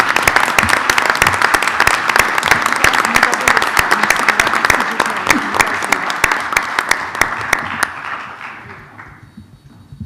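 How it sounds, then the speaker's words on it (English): Applause for students at a school district board meeting: dense, steady clapping from a room full of people, loud and sustained for about eight seconds before thinning out and fading to quiet. "One more time, we'll have a round of applause"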